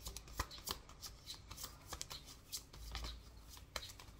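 A deck of oracle cards is shuffled close but quietly, giving a continuous run of soft riffling flicks and taps with no speech.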